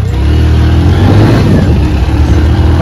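A motorcycle engine catches and revs, loud and close, with a steady rumbling drone that swells and holds through the clip; no talk is heard.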